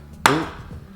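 One sudden, forceful sneeze close by, a sharp burst with a brief voiced tail, then quiet room tone.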